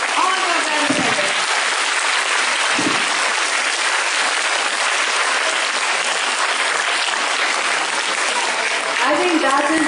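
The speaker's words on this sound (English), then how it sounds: "Don't you give them a big clap?" Loud, dense applause from a large school assembly crowd at a special Gandhi Jayanti assembly fills the whole stretch without a break, a continuous wash of many hands clapping at once.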